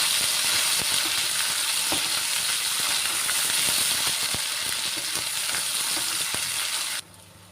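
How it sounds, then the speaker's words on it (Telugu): Masala paste frying in oil over a medium flame for a mushroom tomato curry, a steady loud sizzle with scattered crackles and clicks of stirring, cutting off abruptly near the end. "ఈ పేస్ట్ని 2 నిమిషాల పాటు మీడియం ఫ్లేమ్లో ఫ్రై చేసుకోవాలి."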